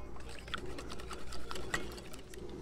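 A whisk beats cake batter with a splash of vanilla in a bowl, a steady run of quick scraping and tapping strokes, moderately close and alone.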